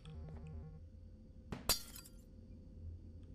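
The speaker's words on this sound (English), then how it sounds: "Break the glass." A drone smashing a glass pane in Garten of Ban Ban 3: one sharp crash with a bright shattering burst and a short tinkling tail, preceded by faint electronic beeps over a quiet game hum.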